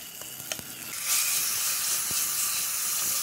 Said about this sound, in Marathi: अळूचं मिश्रण घालू,